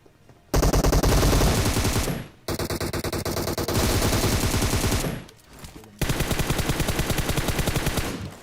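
Loud, rapid automatic gunfire in the BGMI mobile battle royale game, several long sustained bursts separated by brief gaps, close and dominant throughout.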